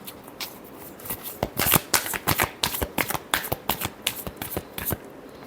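A deck of tarot cards is shuffled by hand in a quick series of crisp riffling flicks and slaps, loud and close, about a dozen bursts in a fast uneven rhythm with no talking.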